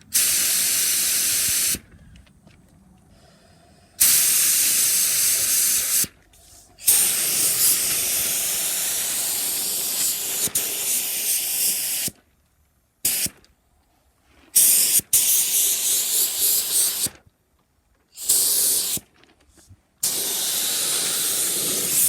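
A spray gun laying primer over a spot rust repair, set to around 27 to 29 psi, hissing steadily in repeated bursts of several seconds with short silent pauses between passes.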